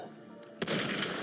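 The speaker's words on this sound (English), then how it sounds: "Gunfire! We've got intruders." Gunfire in the video game Wuthering Waves, a sudden sharp blast followed by a sustained burst of rattling shots and noisy echo after a quiet moment.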